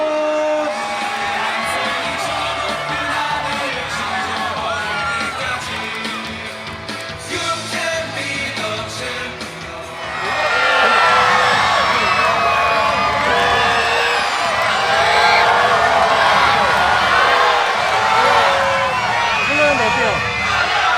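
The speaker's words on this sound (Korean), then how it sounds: "받고 싶다는 소리 질러." Stadium crowd at an FC Anyang football match yells, whoops and cheers continuously, surging much louder about halfway through as fans compete for signed balls.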